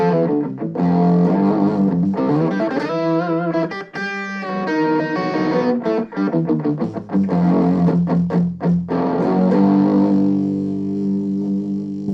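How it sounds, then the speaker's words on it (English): A heavily distorted electric guitar through a BOSS Katana Mini X amplifier's distortion plays chords and short riffs, loud and gritty, ending on a sustained buzzing chord. "This is the distortion of the amplifier."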